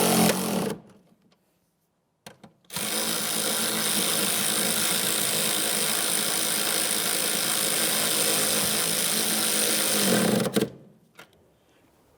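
Power tool snugging the rear shock mounting nuts on a 2000-2005 Buick LeSabre, a loud continuous whirring run of about eight seconds after a brief start-stop burst, close by.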